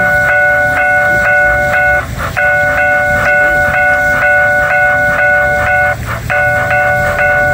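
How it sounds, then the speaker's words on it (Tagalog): A train rolls through a closed level crossing while the crossing bell rings loud and close in a steady repeating pattern, broken by brief gaps, over a continuous low rumble of the passing train. "Nagpo-close na po yung daanan dahil padaan na po yung train."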